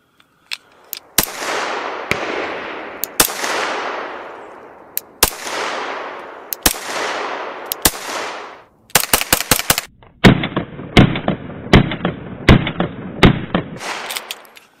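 Pistol shots fired outdoors, first a series of single loud cracks with long ringing echoes, then faster strings of rapid shots with shorter tails, all close and sharp.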